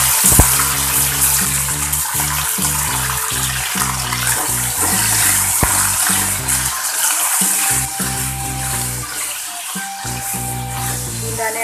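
Gunda (glueberries) drop into hot oil and fry with a loud, steady sizzling hiss that carries on throughout over a tonal musical background.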